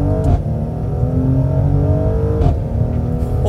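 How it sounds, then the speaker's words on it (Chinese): The 3.0-litre V6 of a 2021 Mercedes-AMG GLC43 Coupe accelerates hard in Sport Plus mode, a loud, close engine drone that holds and climbs for several seconds, with a brief dip around a gear change and no talk. "我现在去 Sport Plus 加油。"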